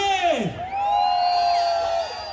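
A crowd at an outdoor banda concert in Ocotlán, Oaxaca lets out a loud, sustained collective shout and whoop that swells and holds for about two seconds.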